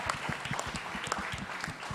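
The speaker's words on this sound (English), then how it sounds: "You all deserve a round of applause for yourselves." Scattered audience clapping at a media-making workshop weekend, fairly quiet and somewhat distant, with irregular individual claps rather than a full ovation.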